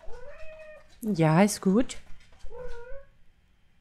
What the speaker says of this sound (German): Boah, ich bin eine dicke, schwere Katze.